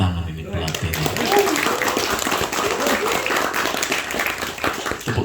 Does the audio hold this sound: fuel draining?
no